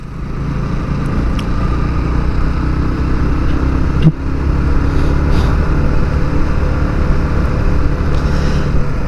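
A motorcycle rides along at low speed with a steady, loud engine rumble and wind noise throughout, and one brief knock partway through.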